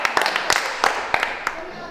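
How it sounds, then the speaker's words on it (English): Children in a classroom give a short burst of clapping: a few scattered, uneven claps, fairly close and moderately loud, with a light murmur of voices beneath. "Clap for yourself."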